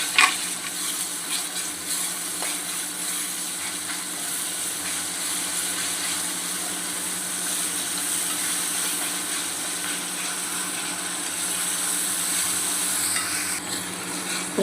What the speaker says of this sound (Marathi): आपला कांदा टमॅटो मस्त असं शिजला